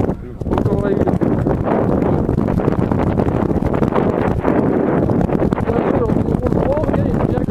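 Strong, steady wind buffets a microphone on a hiking trail outdoors, a loud continuous rumbling roar that fills the whole stretch with no letup.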